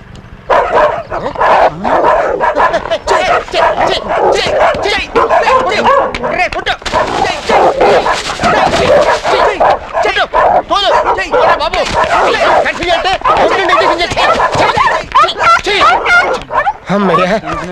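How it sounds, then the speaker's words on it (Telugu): Several dogs bark loudly and continuously in a film scene, reacting to someone's clothing, with dense overlapping yaps and woofs under voices. "కుక్కలు నేను కూడా తోలేను సార్"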